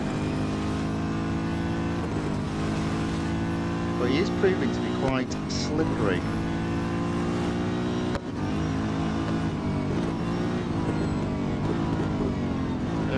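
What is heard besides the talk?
Chevrolet Corvette C7.R race car engine, Real Racing 3 video game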